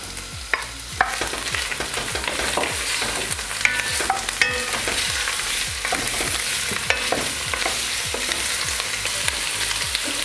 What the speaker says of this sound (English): Add the salted beef.